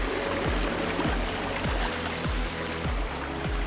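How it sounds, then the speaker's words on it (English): Creek water rushes steadily at a hike crossing in Clifty Falls State Park, a continuous close, broadband flow with recurring low thumps, likely footsteps or bumps against the mic. "One last creek crossing for the day."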